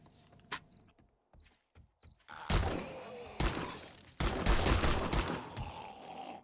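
Automatic weapon fire in the zombie survival game 7 Days to Die: a few sparse clicks and thumps, then loud sustained bursts of gunfire in two long stretches, close and harsh.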